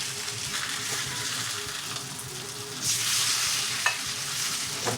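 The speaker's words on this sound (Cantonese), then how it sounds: "煎到佢燶燶地咁樣" Beef fillet sears in a pan until charred, a steady close sizzle that swells louder midway, with a few sharp pops and spatters.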